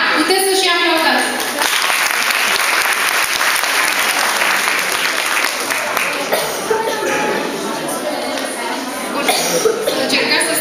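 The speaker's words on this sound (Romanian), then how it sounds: "Da, puteți să și aplaudați." Audience applause at a Romani community celebration of International Roma Day in Oltenița, dense steady clapping lasting throughout with some voices and chatter mixed in.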